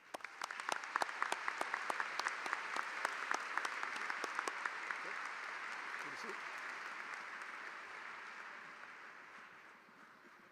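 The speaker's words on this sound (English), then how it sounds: "A round of applause." Applause from a high school commencement crowd, with sharp individual claps standing out at first, then settling into a dense, sustained wash that slowly fades, heard at moderate distance in a large venue.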